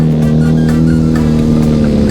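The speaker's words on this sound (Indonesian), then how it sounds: "kita bakal cobain knalpot suara knalpot avionik yang baru ya" A vehicle engine fitted with a new aftermarket Avionik exhaust gives a loud, close, steady rumbling drone with faint pulsing throbs running through it, with no voices.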